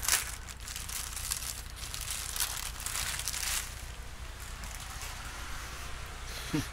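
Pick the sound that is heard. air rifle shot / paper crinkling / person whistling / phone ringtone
paper crinkling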